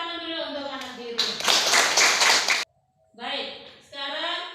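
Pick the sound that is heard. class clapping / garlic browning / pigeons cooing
class clapping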